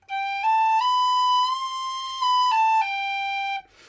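A Whistle Blower tin whistle plays a half-holed C natural, one clear steady note held for over three seconds with slight shifts in pitch, heard alone and close.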